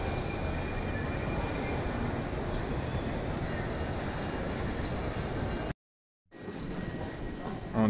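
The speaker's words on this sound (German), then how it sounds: "Und hier noch das Getummel auf den 11 Bahnsteigen" Trains rumble and wheels squeal along the platforms of Vienna's Westbahnhof station amid general bustle. A continuous, loud rail roar fills the scene, cuts out abruptly for a moment, then returns.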